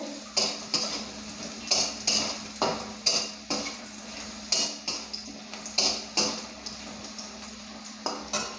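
Potatoes with a little turmeric are stirred in a pan, a utensil clanking and scraping against the metal in a regular rhythm of sharp, close hits over a faint background sizzle.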